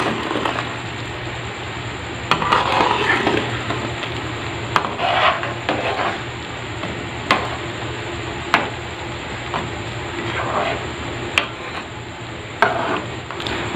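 Thick apple murabba is stirred in a pot over a steady hum, with a spoon scraping and sloshing and periodic sharp clinks against the metal rim, at close range.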